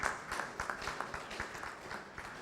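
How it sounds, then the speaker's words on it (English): Audience applause at a public forum in a hall, a dense patter of many hands clapping at moderate volume for a few seconds. "Can you clap for that?"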